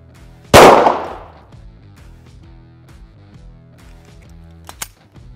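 A Glock 17 pistol chambered in 9x19mm fires a single sharp, loud shot at a body armor plate with a ceramic tile, leaving a short ringing decay, then a faint click a few seconds later.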